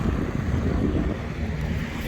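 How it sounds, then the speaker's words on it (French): Wind buffets the microphone outdoors beside a restaurant in Taroudant, Morocco, a steady, loud low rumble with slight gusty variation. "tu dois l'entendre, il fait un peu de vent"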